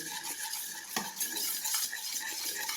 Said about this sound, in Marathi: आता हे ना दही, दूध आणि तूप मी छान असं मिक्स करून घेणार आहे